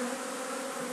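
Honeybees and a drone bee buzz at the hive in a steady, close, continuous drone, quiet but unbroken, with no voices.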